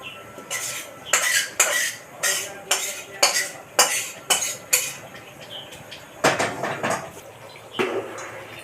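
Masala being stirred into khichdi in a pot, a ladle scraping and clinking against the metal in a steady series of loud, close strokes with brief pauses between them.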